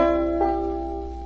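A five-string banjo rings out on its own, a brushed strum across all the strings with a thumb-plucked fifth string sounding near the start, then a sustained ringing decay.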